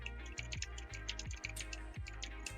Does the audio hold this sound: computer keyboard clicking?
yes